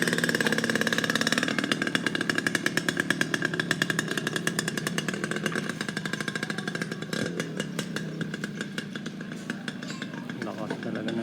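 Suzuki X4 motorcycle engine revving with a loud, rasping exhaust, a dense rapid firing pulse that stays strong and steady throughout.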